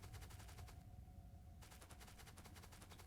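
Civilian assault rifle from the Factorio Firearms Plus mod, firing in fast continuous automatic bursts with a short pause in the middle, steady and fairly quiet.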